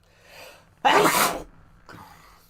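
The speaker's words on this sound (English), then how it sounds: "I sneeze" A single sharp human sneeze bursts out loud and close, preceded by a faint breathy intake and followed by a softer trailing exhale.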